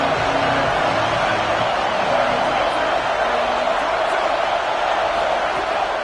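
Stadium crowd noise in a college football video game, Ohio State at Nebraska on third down, a loud steady roar of cheering that fills the whole stretch without letup.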